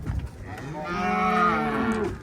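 A single long, low cow moo at a livestock market, close and clear, rising and then fading.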